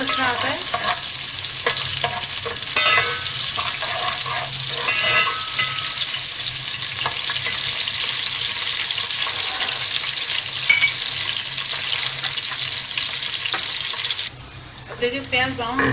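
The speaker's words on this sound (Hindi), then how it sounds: "हमने मीडियम साइज प्याज ली थी, वो हम घी में शामिल कर रहे हैं" Medium-sized onion fries in ghee for Muradabadi biryani with a loud, constant sizzle and occasional stirring scrapes, easing off slightly near the end.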